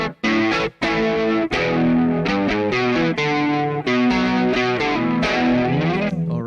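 Electric guitar run through the distortion channel of a single-channel loop station, playing a sustained, harmonically rich melodic line with brief gaps, loud and close with no talking.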